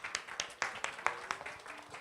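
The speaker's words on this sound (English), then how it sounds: "So let's give him a big, big round of applause." An audience applauds a speaker at a digital marketing talk, a scattered patter of hand claps in an irregular rhythm, moderately loud throughout.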